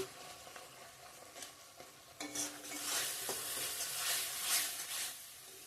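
A spoon scrapes and stirs through bhetki fish curry masala frying in oil, a soft sizzle under it and louder scraping strokes building in the second half, with no talk.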